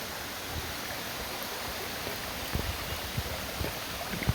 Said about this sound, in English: But the water comes sheeting off the front of it, comes down here